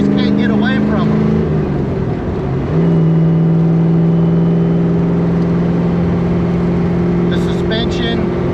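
A rotisserie-restored, mini-tubbed car with a NASCAR-style boom tube exhaust idles and revs with a deep, steady droning rumble, its pitch stepping up partway through, loud and close, with a brief voice near the start.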